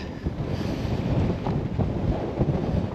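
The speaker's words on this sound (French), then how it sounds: "Oh, le vent, c'est impressionnant." Strong wind buffets the microphone in rough, rumbling gusts, a constant low roar with no voices.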